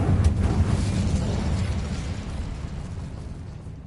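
In the video game Hogwarts Legacy, the Incendio fire spell bursts out as a loud, close whoosh of flame, with a strong onset that slowly fades into a roaring rumble.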